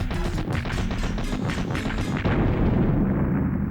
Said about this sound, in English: And now we have like a minute's worth of exploding, because why not?